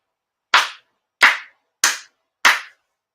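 Four sincere ritual prayer claps at a Konko Kyo prayer gathering, sharp and evenly spaced, each ringing briefly into a quiet room with silence between them.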